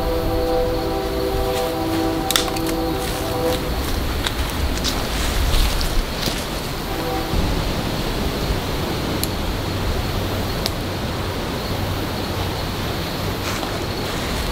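A low, steady rumble of a passing train sits beneath strong gusting wind by a river in Texas, with occasional sharp clicks and rattles of tree limbs being broken nearby.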